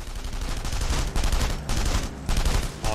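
Rapid machine-pistol bursts in The Saboteur, loud and close, fired in several choppy volleys with brief gaps between them.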